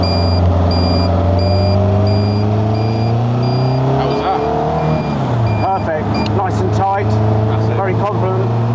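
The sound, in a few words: Caterham CSR Twenty car accelerating around a roundabout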